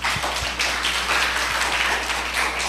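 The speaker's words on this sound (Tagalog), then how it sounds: "Teka muna, pumapalakpak na tayo." A church audience claps together in a dense, continuous patter of applause that stays at an even level for the whole stretch, with no voices.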